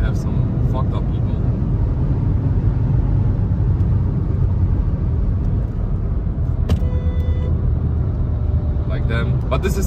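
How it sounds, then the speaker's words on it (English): A car speeds along a German motorway at about 215 km/h, a loud constant roar of engine, wind and tyre noise heard from inside the cabin, steady with no letup. "Now you can see we are speeding on 215 kilometers per hour."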